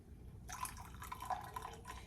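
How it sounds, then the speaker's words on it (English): Water splashes and trickles into a pot of sage and clove tea at home, a soft, close pour with a few bright drips and a gentle liquid gurgle, quiet and alone. "Let's just add some more water to this."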